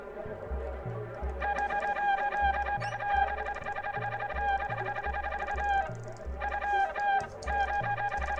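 Repeated bursts of chicken clucking from the video game Secret of Evermore ring out clearly over a pulsing, bass-heavy game soundtrack, coming in quick choppy runs throughout.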